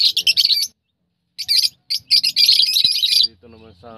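African lovebirds in a pet cage chirp in rapid bursts of high, sharp tweets, loud and close, with short silent gaps and a brief quieter voice near the end.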